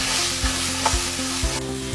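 Vegetables fry with a steady, loud sizzle in a pan while cooking beef black pepper, as a utensil stirs and scrapes at a regular rhythm about twice a second; no voices.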